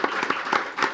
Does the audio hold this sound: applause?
yes